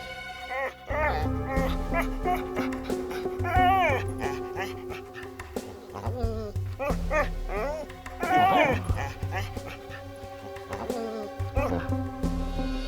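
An injured dog at a veterinary hospital whimpers and whines in rising, wavering cries, with occasional yips and barks, close and fairly loud, while people talk over it.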